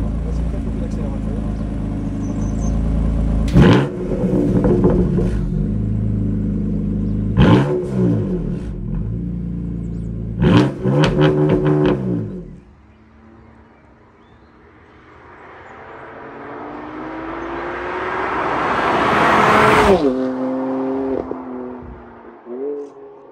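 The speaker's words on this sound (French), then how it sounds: "On veut entendre ce pot d'échappement de folie. Vas-y, fais un peu d'accélérateur." BMW M4 Competition exhaust revving, several sharp blips of the throttle at close range followed by a long rising rev that builds to a loud roar and drops off, with people talking in between.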